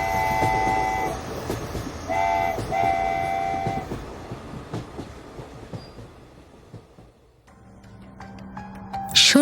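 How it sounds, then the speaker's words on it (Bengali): A Down Ranchi Express train at night, rolling wagons rumbling steadily with a long tonal horn blast sounding twice early on, then the clatter fading toward quiet before rising again near the end. "রাত্রি 12টার সময় ডাউন রাঁচি এক্সপ্রেস ধরলাম"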